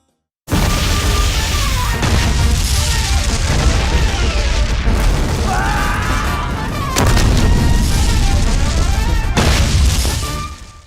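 A loud, sustained explosion from the disaster film Titanic 2, a dense, roaring blast with crashing debris that continues for about ten seconds and surges again near the end.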